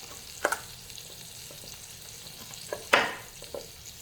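Pot roast beef searing in a hot pan, a constant close sizzle with a few louder spitting bursts and the clatter of handling in the pan.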